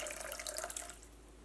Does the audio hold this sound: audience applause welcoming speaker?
no